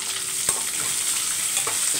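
Onions sizzle steadily in a pan, with a bright, close frying hiss and one quick scrape of a utensil early on.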